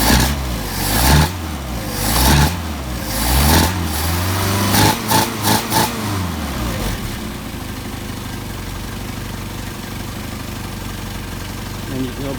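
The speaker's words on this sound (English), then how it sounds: "now we're going to rev it and see if we don't, how it revs" A Mercedes 190SL engine fitted with Solex 44PHH carburetors revs up in several sharp, rising blips, then settles back to a steady idle that hums on for the remaining seconds.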